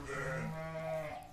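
A sheep bleats beside its newborn lamb, giving one long, loud, wavering cry close by that fades at the end, with no talk over it.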